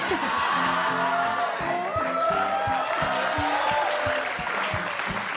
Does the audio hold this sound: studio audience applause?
yes